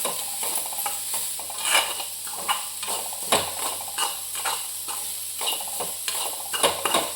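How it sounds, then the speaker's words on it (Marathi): Coconut and onion masala roasting in a pan for a Kolhapuri chicken curry, with steady stirring scrapes and clinks of a spoon against the pan over a soft sizzle, close and continuous with no talk. "खोबरं आणि कांदा जरा भाजून घेतलं की त्याला चांगली खमंग अशी टेस्ट येते"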